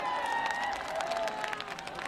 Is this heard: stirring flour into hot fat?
no